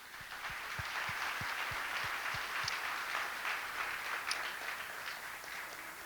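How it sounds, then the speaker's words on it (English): Audience applause for a speaker at a cyber security talk, a sustained, even patter of many hands from a sizable crowd, heard somewhat distant and soft, with a few low thumps near the start. "big applause for Matthew"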